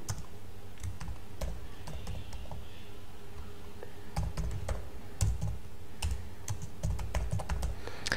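Rapid, irregular clicks of code being typed on a computer keyboard during a JavaScript lesson, a steady close patter of keystrokes with a few louder taps over a faint background hum.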